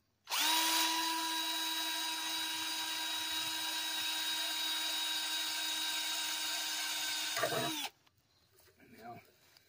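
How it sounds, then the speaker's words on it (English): A power drill whines at a high, steady pitch for several seconds, drilling a hole in a metal rabbit J-feeder, then stops abruptly, followed by faint handling noises. "first I'm going to drill a hole right here"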